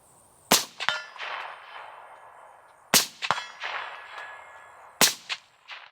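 Three sharp suppressed rifle shots from an HM Defense integrally suppressed rifle with a 9-inch barrel, each followed closely by a ringing metallic clang as the bullet strikes 8-inch steel targets at 200 yards, spaced about two and a half seconds apart.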